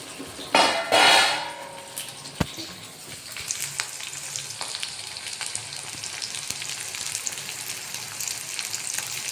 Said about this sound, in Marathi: कांदा आणि मिरची छान शिजत आहे.